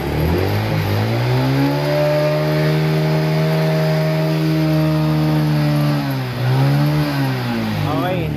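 A Honda RS 125 motorcycle engine revs loud and close, climbing and holding a high steady whine, dipping briefly, then rising again.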